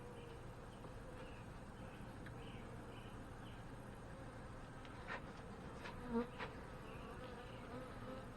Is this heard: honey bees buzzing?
yes